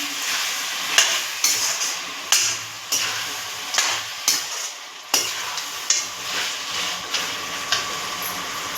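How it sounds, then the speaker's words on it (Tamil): Country chicken pieces sautéed in a hot pan for a pepper gravy, a close sizzle punctuated by sharp, regular clanks and scrapes of the spatula roughly every half second, with no talk. "நல்லா வதக்கி விட்டுக்கலாம் ஃப்ரெண்ட்ஸ்"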